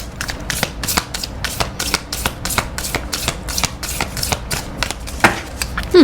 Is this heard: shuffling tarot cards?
yes